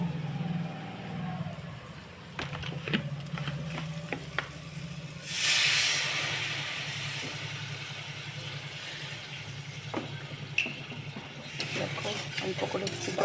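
Water splashed into a simmering fish curry (macher jhol) in a pan sets off a loud, broad sizzling hiss that swells for a moment midway, then settles back under a steady low cooking rumble with scattered clinks.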